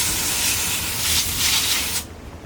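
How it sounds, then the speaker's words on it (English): A garden hose sprays water over a pool filter O-ring to rinse off dirt, a steady close hiss that cuts off abruptly after two seconds. "going to hose it off before he puts it on and just get all the dirt out of it"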